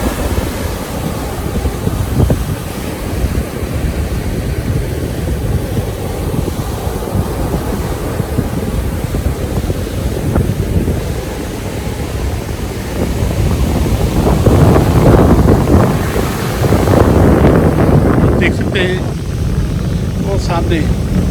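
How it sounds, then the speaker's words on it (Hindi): Rough sea waves crashing on the beach at Gadani, a loud, continuous roar of surf with heavy wind buffeting the microphone, swelling stronger midway through. "समंदर तेज हो गया था"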